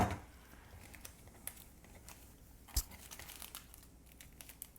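A plastic MRE coffee pouch crinkles and tears as it is opened, giving faint scattered rustles with a few sharper snaps, close and quiet.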